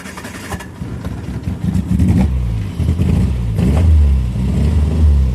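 A Triumph Spitfire engine, heard close up, revs and surges in repeated throttle blips, rising and falling over a rough, throaty running note.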